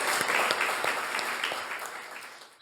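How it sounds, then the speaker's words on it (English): An audience at a reading and gallery opening applauds warmly, a brief burst of many hands clapping that fades out toward the end. "can we give one more round of applause to all three readers, Cole, Layla, and Yedda?"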